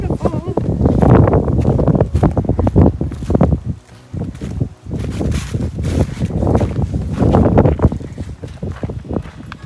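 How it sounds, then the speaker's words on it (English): Strong wind buffeting the microphone on a mountain descent among slippery fallen leaves, a steady roaring rush with brief lulls, while someone talks over it. "Heading down, and it is windy"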